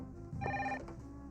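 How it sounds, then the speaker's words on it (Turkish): A telephone rings indoors, a short trilling bell burst lasting under a second over a steady background hum, at moderate loudness. "Telefonda çalıyor, Azat'tır."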